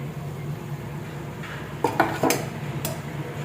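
A pan lid lifted off a pot of cooked brinjal masala, heard as a few close metallic clanks and clatters over a steady low kitchen hum.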